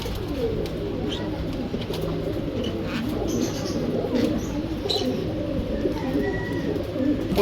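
Adult pigeons coo repeatedly inside a bird shop, several overlapping throaty calls over a steady background murmur and faint chirps.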